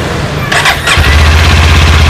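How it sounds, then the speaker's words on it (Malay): A Kawasaki Modenas Ninja 500 sportbike starts up: a brief cranking stutter, then the engine catches and settles into a loud, steady low idle, close by. "Kita dengar bunyi motor ini guys."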